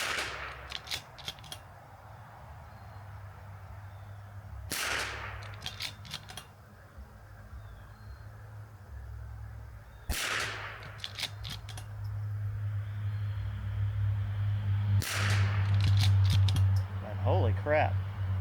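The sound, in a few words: rimfire rifle gunshots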